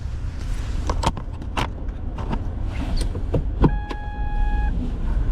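A car fitted with a Coolerworx short shifter rolls along a residential street. Its low engine rumble runs steadily under scattered clicks and knocks, with a brief sustained electronic chime near the end.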